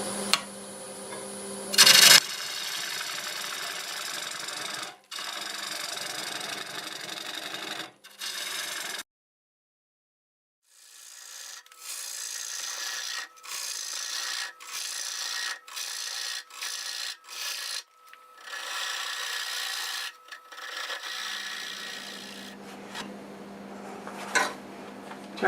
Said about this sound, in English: use the 5/8 bowl gouge